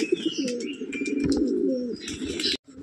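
Old-lineage Giribaj pigeons coo in a loft, with steady low rolling calls close by and a few sharper chirps and knocks mixed in, ending in a sudden short silence.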